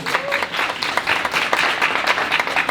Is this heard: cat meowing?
no